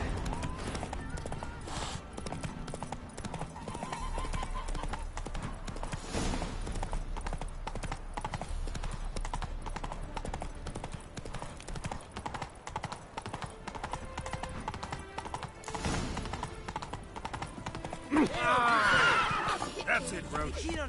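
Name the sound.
horse Roach galloping in The Witcher 3 video game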